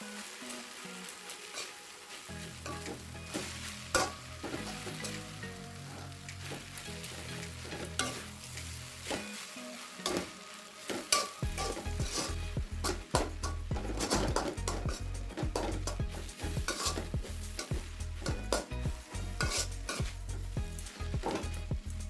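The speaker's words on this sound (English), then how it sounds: "Mix it all together and cook for 2 more minutes." Kolkata street-style chowmein tossed and stir-fried in a hot pan, with loud continuous sizzling and rapid, rhythmic scraping and clanking of the spatula against metal, growing busier and louder partway through, close up with no talking.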